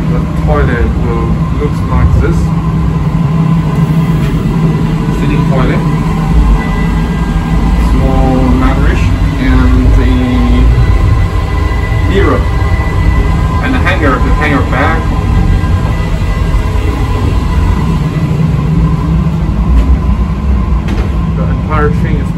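Loud, unbroken rumbling drone inside a moving passenger train on the Abeokuta–Ibadan line in Nigeria, with muffled voices surfacing now and then.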